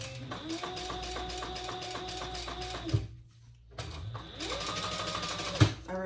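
Sewing machine running two long bursts of top stitching along the folded top edge of a trifold men's wallet, a steady close mechanical whir with a brief pause and a clunk between runs.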